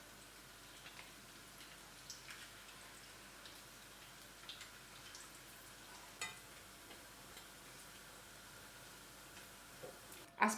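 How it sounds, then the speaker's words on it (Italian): Oil sizzles softly and steadily at low volume as spoonfuls of zucchini batter fry in a pan, with scattered small pops and ticks across the hiss. "Ho messo abbondante olio nella padella, ecco che è a temperatura, posso iniziare a friggere."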